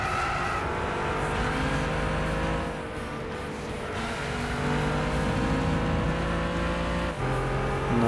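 A car engine in the racing video game Gran Turismo 6 accelerates out of third gear, its steady, loud drone rising and shifting in pitch throughout, with a brief dip near the end.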